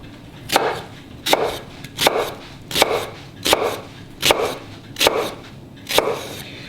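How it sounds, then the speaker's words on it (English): A knife cuts vertical slices on a cutting board, making eight crisp, evenly spaced chops in a steady rhythm, close and clear, with no talking. "now we're going to cut vertical slices"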